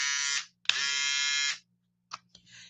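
A single-blade electric shaver buzzes close by in two sustained bursts, then sputters in short, clipped pulses as it starts and stops.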